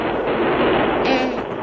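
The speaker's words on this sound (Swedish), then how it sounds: "Där borta har det ju redan börjat spränga." Rock blasting at a mine makes a dense, continuous roar of blasts and rumble. It is loud and sustained for the whole short stretch.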